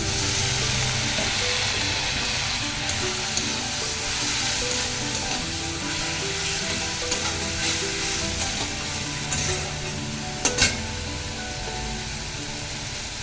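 Spice masala with ginger and garlic sizzles and fries loudly in a pan after a splash of water, a steady dense hiss with occasional stirring clinks, close and continuous throughout.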